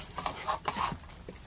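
Close scraping and sizzling as chicken is stirred with other ingredients in a hot pan for fried chicken, a few rhythmic sweeps of a utensil over a soft frying hiss.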